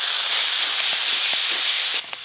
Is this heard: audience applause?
no